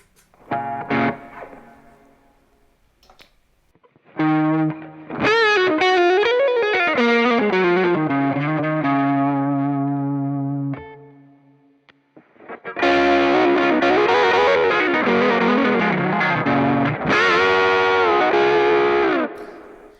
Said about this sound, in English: Now let's add some distortion to our sound.